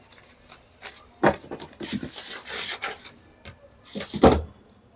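Scissors cut a paper blouse pattern in short, light snips and rustling crunches spread irregularly over a quiet background.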